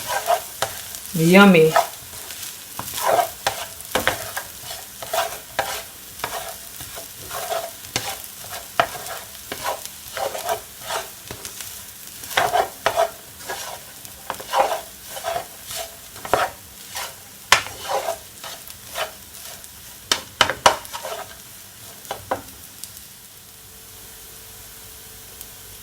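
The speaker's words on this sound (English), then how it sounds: "Just gonna mix it all around." Hibachi steak and shrimp sizzle in a pan as a utensil stirs and scrapes in frequent clattering strokes, close up; a brief spoken remark near the start.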